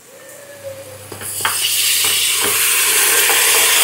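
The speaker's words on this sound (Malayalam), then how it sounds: "അപ്പം നമ്മൾ അടുത്തത് ചിക്കൻ ഇട്ട് കൊടുക്കാം." Raw chicken hits a hot pan of masala in a home kitchen for a festive Vishu meal, bursting into a loud, steady sizzle that swells and holds, with a few stirring scrapes early on.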